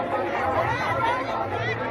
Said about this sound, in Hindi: इसलिए भारी भीड़ है